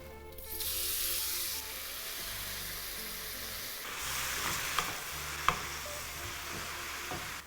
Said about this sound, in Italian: L'olio è caldo, ci vado a mettere i funghi.